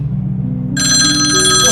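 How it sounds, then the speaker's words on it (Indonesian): A telephone starts ringing abruptly with a bright, sustained electronic trill that continues loud and close to the end, following a moment of low background hum. "dia ngedenger telepon itu bunyi lagi."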